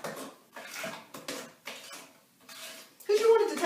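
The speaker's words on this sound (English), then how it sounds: "Stir it up." A spoon stirs a sugar-free mixture in a bowl, clinking and scraping against the sides in several rhythmic strokes, with a louder clattering knock near the end.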